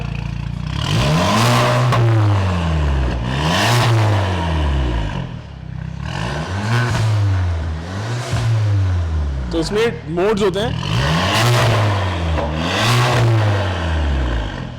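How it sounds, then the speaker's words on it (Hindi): A remapped Toyota Fortuner's engine revs repeatedly in loud rising and falling bursts, with a throaty exhaust note, while someone talks over it nearby. "एक बार एग्जॉस्ट सुना दे इसका"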